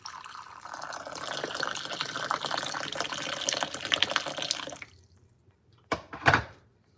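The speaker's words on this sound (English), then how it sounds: "first we're gonna pour some water. This is my electric tea kettle." Water pours steadily into an electric tea kettle for about five seconds. The flow then stops, followed by a couple of short knocks or clacks near the end.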